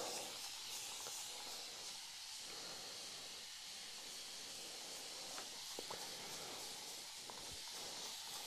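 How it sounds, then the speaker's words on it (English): A spray bottle mists a pinned-down quilt being blocked, giving soft, steady hissing spray that runs faint and continuous throughout, with a few small taps and handling sounds. "I'm going to finish it off with another mist."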